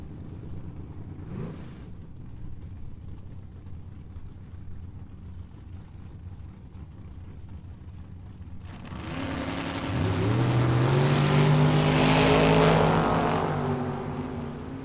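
At a drag strip, a Camaro and another drag car launch down the track; a low engine rumble idles, then a loud roaring surge builds and swells as the cars accelerate away, with no voices.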